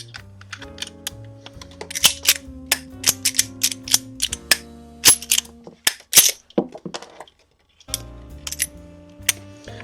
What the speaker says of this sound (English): So we're going to put these snap caps in.